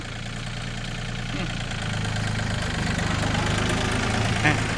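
A Yanmar 35-horsepower tractor engine runs steadily as it is driven around, giving a continuous low, even mechanical drone at close range that grows slightly louder over time, with faint voices underneath.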